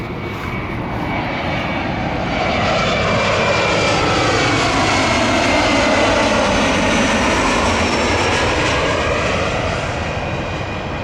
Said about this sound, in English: Do I hear another plane?